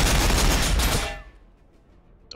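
A loud burst of rapid gunfire sound effect during a Warhammer tabletop battle between Orks and Necrons, a dense volley lasting about a second that fades into near silence.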